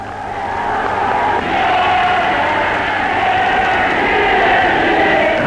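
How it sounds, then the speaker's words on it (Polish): A dense crowd presses around the speakers' stand at a 1956 rally on Parade Square in Warsaw, producing a loud, continuous roar of many voices that swells slightly and never breaks. "Tłum ciasno oblega trybunę."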